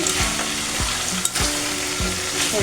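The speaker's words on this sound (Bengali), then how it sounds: "সেই রোস্টটা এখন ভেজে নিচ্ছি।" Meat roast frying in a pan, a steady loud sizzle running throughout with repeated stirring scrapes of a spatula against the pan, close and without talk.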